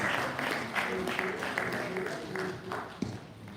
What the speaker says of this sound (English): A better round of applause for him, please.